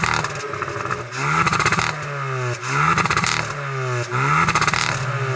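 A Hyundai i20N's 1.6-litre four-cylinder turbo petrol engine revs hard in repeated bursts, climbing then dropping roughly every second, loud and close with crackles between pulls.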